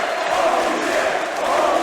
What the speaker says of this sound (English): The entire crowd on their feet,